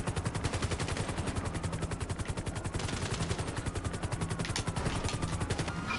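Rapid, continuous automatic gunfire fired at a police helicopter in GTA 5, loud and dense throughout, with rotor and game noise underneath.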